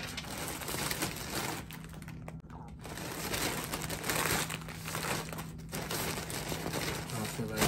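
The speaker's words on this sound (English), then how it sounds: "Bagging stuff up right now." Plastic bags crinkle and rustle in a home kitchen as products are bagged up, with close, irregular handling noises over a faint steady background hum.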